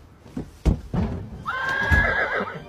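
A horse gives a loud, shrill whinny that rises and warbles for about a second. A few knocks and thumps come just before it, and there is no talk.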